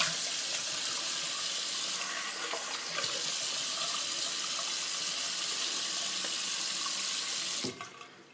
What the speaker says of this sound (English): I'm going to go ahead and rinse my face off.